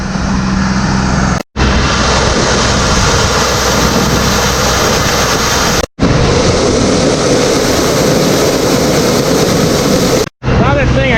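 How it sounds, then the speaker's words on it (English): A tractor engine running at full throttle, a loud, steady, close roar with a dense broadband drone that carries on without pause, cut only by a few brief dropouts. "we got this tractor here running full bore, full throttle"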